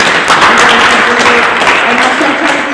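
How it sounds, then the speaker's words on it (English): A town hall audience breaks into a loud, sustained round of applause, dense clapping close by with no break. "If I could just get a round of applause for everybody"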